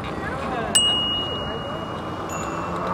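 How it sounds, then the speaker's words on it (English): A bicycle bell on an e-bike gives a single bright ding with a ringing tail that fades slowly. It sounds over steady outdoor road and wind noise, and a second softer ring comes near the end. "Like to ring the bell to the kids."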